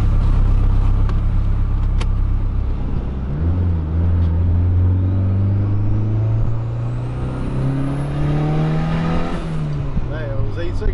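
A turbocharged Honda Civic coupe with a base engine map rumbles at idle, then revs up in a long rising pull with a whistling top end that drops off near the end, heard close with voices over it.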